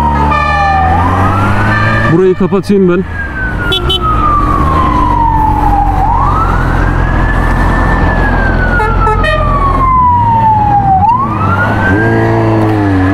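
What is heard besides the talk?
fire engine siren passing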